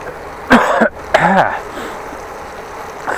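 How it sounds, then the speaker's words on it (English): Two close, throaty coughs from a man with a sore throat, cycling on a city bike lane in cold weather, come in quick succession, rough and loud, followed by quieter background noise. "Sorry for the coughing, still a bit of throat problems when I go from the warmth to the cold."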